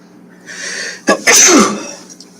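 A single loud sneeze close to the microphone, with a short sharp intake before the burst.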